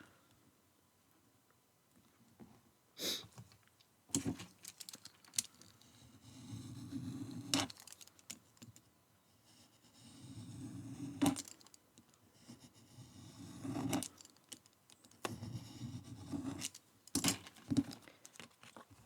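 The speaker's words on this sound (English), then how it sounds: "I'm now going to cut a strip" A strip of card is cut with a paper-crafting cutting gadget: quiet, intermittent sliding and crackling passes with sharp clicks and snaps between them, close and fairly faint.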